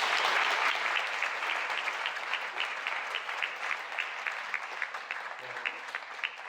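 An audience at a church lecture claps together in steady, sustained applause, a dense patter of many hands that carries on at an even level throughout.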